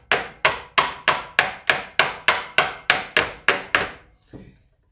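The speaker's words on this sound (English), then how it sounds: "Give this power steering pump some light taps right about here." Light hammer taps on the power steering pump of a 2001-2005 Honda Civic, about twelve sharp, evenly spaced metallic knocks close up, followed by a softer short clunk.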